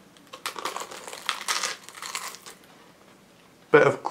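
Crunchy bites into a McDonald's chocolatey banoffee pie, crackly crinkling bursts of chewing close to the mic, then a louder sharp sound near the end with a voice mixed in.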